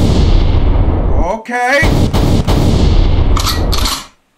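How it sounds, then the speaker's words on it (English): Gunshot sound effects fired from a soundboard, a dense burst of loud, sharp cracks and booms rattling continuously with a brief gap, then trailing off; someone speaks briefly over the noise. "I might need some gunshots."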